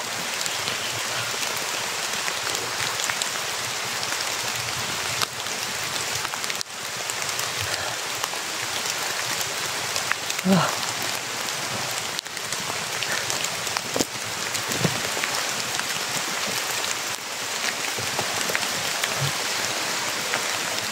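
Steady rain patters on a surface throughout, a constant hiss with occasional louder drops, and no talking.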